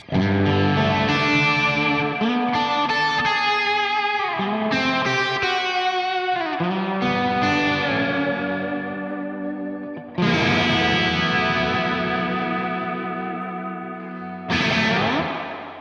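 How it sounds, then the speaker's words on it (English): Heavily processed electric guitar chords through a Victory V4 Sheriff amp with the reverb turned all the way up ring out with a big, washy reverb tail, each strum swelling and decaying into a long shimmering wash. "let's just turn the reverb all the way up"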